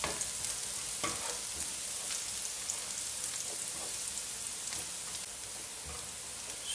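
Garlic frying in oil until lightly browned, in preparation for an Arabic-style beef keema, with a dense, even hiss like steady rain and a few faint spatula knocks.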